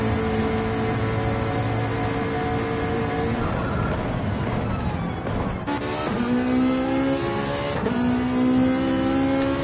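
A Ferrari race car on soft tires in a sim racing game gives a continuous, loud high-pitched engine drone, rising and falling through gear shifts with sharp pitch changes, alongside other cars.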